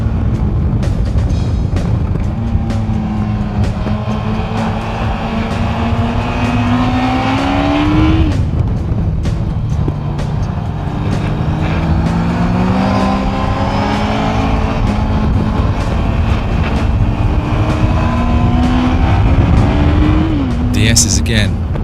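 A motorbike engine revs hard around a race track. The loud, continuous note climbs and drops as it shifts through gears, with a voice talking over it throughout.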